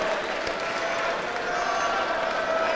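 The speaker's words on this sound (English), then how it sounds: "you can hear by their applause, they absolutely loved it" A crowd at a professional boxing show in Medway applauds steadily, a dense wash of clapping and crowd noise that holds at an even level from start to finish.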